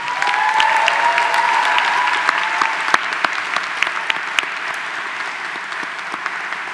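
At a graduation recognition ceremony, the audience applauds the award winners with loud, sustained clapping filling a large hall, with a few sharper individual claps standing out as it slowly eases off.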